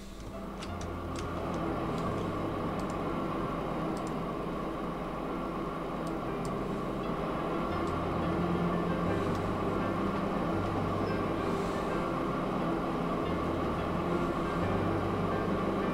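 An old train rolls along in the railway simulation Transport Fever, a constant rumbling drone with periodic low wheel-on-rail thumps and faint ticking, steady and moderately loud throughout.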